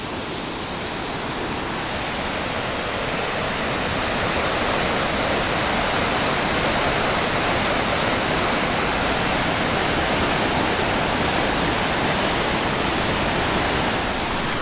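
The river at Shuswap Falls rushes in a dense, steady roar that fills the whole clip. It is loud and close with no pauses and no voices.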